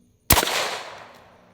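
A long-slide 10mm Glock loaded with 135 grain jacketed hollow point rounds fires a single sharp, loud shot after a moment of quiet, and the report decays over about a second.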